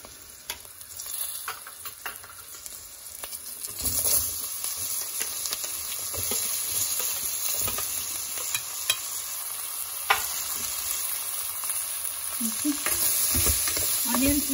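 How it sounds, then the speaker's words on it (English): Onions frying with ginger and a couple of green chilies in a pan, a steady close sizzle with occasional stirring scrapes and clinks, growing slightly louder toward the end. "Then got some ginger in it and some green chilies, a couple of green chilies. And then I'm gonna put all these onions in it."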